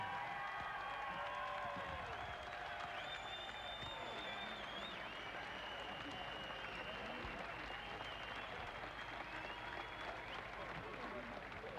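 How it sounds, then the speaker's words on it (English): Boxing arena crowd at a heavyweight fight in the Mississippi Coast Coliseum, Biloxi, applauding and cheering in a continuous roar with whistles and whoops, a ringside voice talking over it, heard from a distance. "let's have a great round of applause for the best heavyweight fight we've seen"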